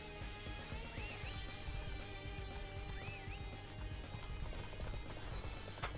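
Horse hooves galloping in Dynasty Warriors 8, a steady clip-clop rhythm running through a busy battlefield mix with music and ambient noise, moderately loud and continuous.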